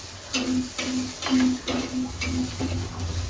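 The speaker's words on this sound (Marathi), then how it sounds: "थोडं तेल टाकायचं, तेल टाकून परतून घ्यायचं थोडं." Garlic and ginger sautéed in hot oil give off a soft, steady sizzle, with a few rhythmic stirring scrapes recurring across the short stretch and no voices.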